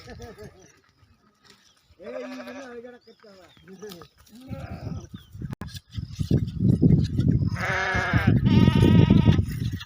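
A flock of sheep at a large rural herding camp bleats: loud wavering cries come in bursts, several overlapping toward the end, over a shuffling, rustling herd with voices in the background.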